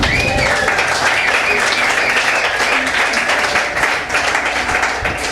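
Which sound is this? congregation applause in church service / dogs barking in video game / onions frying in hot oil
congregation applause in church service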